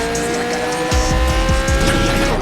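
Engine revs climb under a squeal of tires as a car accelerates at night on a nearly empty road in Gangstar IV, the game's loud motor roar rising in repeated surges over a steady background hum.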